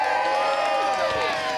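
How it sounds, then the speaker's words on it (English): A rally crowd cheers and whoops, with a dense wash of raised voices and scattered clapping filling a short, steady burst. "Give yourselves a round of applause"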